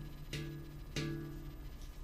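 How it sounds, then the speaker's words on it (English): A lightly struck ghost note on an instrument sounds twice as soft, brief taps about two-thirds of a second apart, each with a short muted decay over a quiet, steady background hum. "Ghost notes are notes where you're striking, but you're striking light in an effort to keep the rhythm"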